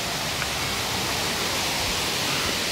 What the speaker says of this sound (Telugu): చూస్తున్నారు కదా అక్కడ వాటర్ అనేది పడుతుంది.